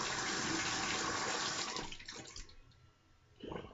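Cold tap water runs hard into a sink for a rinse after a shave, a close steady splashing rush that fades after about two seconds, then a short final splash.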